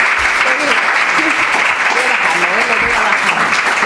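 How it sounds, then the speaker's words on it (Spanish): Steady, loud applause from a lecture audience welcoming a guest speaker, a dense continuous wash of clapping with voices faintly mixed in beneath it. "os quería pedir como un aplauso de bienvenida porque realmente se lo merece"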